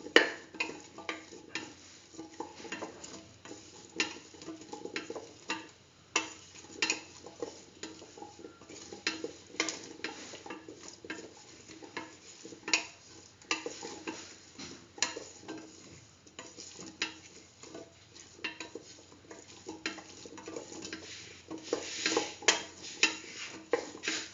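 Spoon stirring spices through chayote and split chickpea rice in a pot, with steady scraping and clinking strokes repeating throughout and a faint sizzle underneath.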